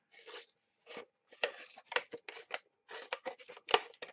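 Repeated crisp snipping of scissors cutting a paper snowflake ornament, a quick irregular series of close, sharp cuts with brief pauses between them.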